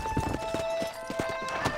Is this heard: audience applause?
no